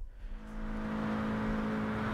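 The 2008 GT-R Super GT race car's engine drones steadily in the Gran Turismo 7 video game, a sustained mid-pitched hum that swells slightly in the opening half-second and then holds, with no talk.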